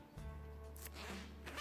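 A clothing zipper being opened in one quick, close pull, a short scratchy rasp over quiet room tone.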